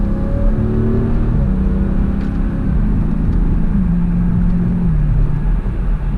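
Dodge Challenger Scat Pack widebody with an 8-speed automatic accelerates under paddle-shifted gear changes, a deep, steady rumble whose pitch climbs and steps down at each shift, heard close from inside the car.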